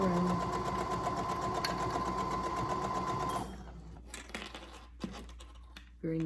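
A sewing machine running a straight stitch along a fabric hem, a steady loud whirring hum that continues and then changes to softer, uneven stitching with a few clicks, while a voice talks.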